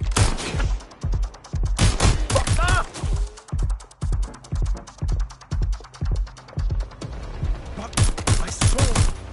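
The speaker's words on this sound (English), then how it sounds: "Suspect shooting!" Close gunfire in Watch Dogs Legion, with rapid automatic bursts and repeated loud shots running almost continuously, and shouted voices mixed in.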